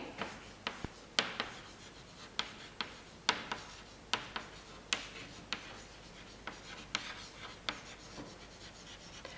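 Pen strokes on paper while a chemistry calculation is written out by hand, a steady run of quiet scratching taps and short rubs, close and faint, with no talking.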